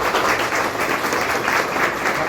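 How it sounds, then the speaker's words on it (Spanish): An audience at a university gathering applauds to welcome a guest speaker, with dense, continuous clapping from many hands, even and sustained throughout. "para quien además le pido un aplauso"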